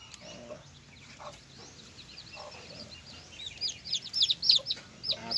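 Newly hatched chicks being placed into a pen give a steady chorus of thin, high peeps, sparse and soft at first, then growing louder and denser near the end with quick overlapping chirps over low background rustle.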